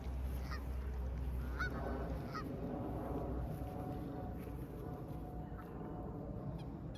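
Domestic geese honk repeatedly in the early morning, loud nasal calls at close range over a low rumbling background, with a voice speaking briefly among them.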